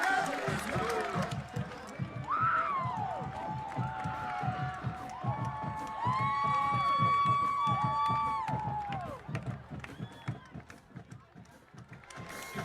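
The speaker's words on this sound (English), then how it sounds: "Listen to this crowd." A high school football crowd roars after a 95-yard touchdown run, rising shouts and cheers swelling loudly, then easing, with voices in the stands rising above the din.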